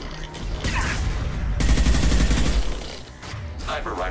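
Sniper rifle fire in the sci-fi video game Mass Effect 2 gives loud, dense gunfire with mechanical clatter, strongest in the middle of the stretch, over steady game noise with no talk.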